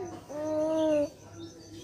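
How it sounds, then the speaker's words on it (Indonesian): A single soft, hollow coo from a pigeon or dove, lasting under a second at moderate distance, with faint background noise before and after. "itu ada dua burung."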